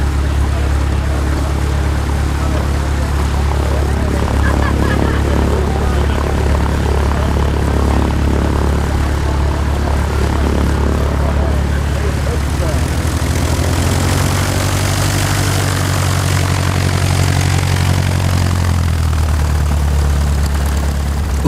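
Aircraft engine running steadily on the ground at an aviation event for children, a continuous loud drone with low propeller hum throughout, shifting slightly in pitch toward the end, with no talk.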